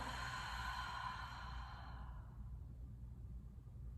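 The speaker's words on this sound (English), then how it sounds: "taking a deep inhale through your nose. Open mouth, exhale, let it all go." A single deep exhale is released through an open mouth at the close of a lakeside yoga flow, a soft breathy sigh that fades out over a few seconds.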